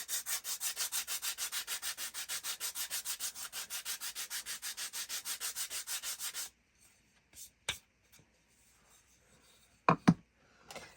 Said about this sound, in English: I'm going to sand on this real quick.